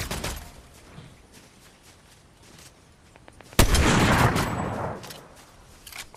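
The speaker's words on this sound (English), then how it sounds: "Oh, he's getting shot at." Gunfire in Fortnite: scattered distant shots crackle through the first three seconds, then a loud, close burst of rapid fire erupts and roars for about a second and a half before tapering, with a few more cracks near the end.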